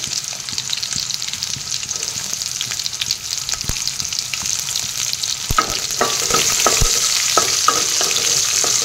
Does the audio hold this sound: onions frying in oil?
yes